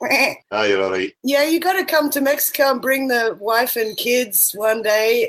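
A sheep bleats once, loud and close, in a short harmonic burst near the start, followed by people talking continuously outdoors.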